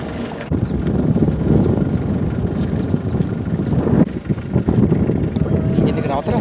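A boat engine drones steadily on the sea during a seaside festival, a loud low rumble buffeted by wind noise, with voices talking over it.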